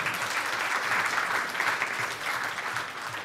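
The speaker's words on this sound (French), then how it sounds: "Oui, oui, oui, on peut applaudir." Dense, sustained audience applause from a full room, steady and even throughout, many hands clapping together without breaks or voices standing out.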